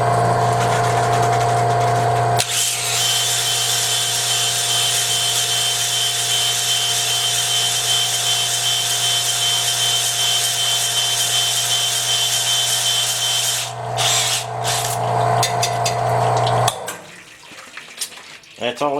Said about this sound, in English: That's all it takes with the ball hone, and that's how ball hone should be used.